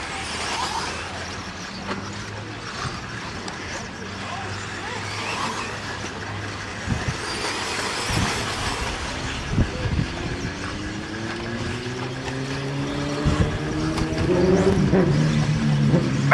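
Racing cars pass on the track at the 2009 Cactus Classic, engines swelling and fading as they go by, with a rising whine near the end. A crowd murmurs in the background throughout.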